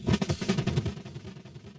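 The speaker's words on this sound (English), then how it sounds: "the drums have delay on them, and it kind of gives them the effect of having a riser and a crash in one." A fast drum fill in a hyperpop or glitchcore track, with delay on the drums, hits hard at first and then scatters into quickly fading echoes that trail away, loud and close, with no voices.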